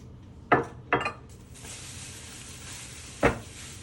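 Pork searing in a pot before braising, Thai style: a few sharp metal clanks of a utensil, then a steady close hiss of sizzling fat that continues to the end.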